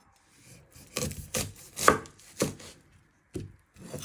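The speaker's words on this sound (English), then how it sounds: "Then you're going to chop it down the middle." A knife chops an onion on a cutting board with several separate, close thuds at uneven intervals and quiet pauses between strikes.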